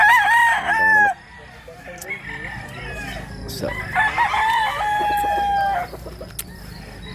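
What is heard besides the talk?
chickens crowing and clucking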